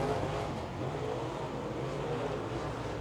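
Late model race cars lapping at Tulsa Speedway, a steady, moderately distant engine roar droning without a break.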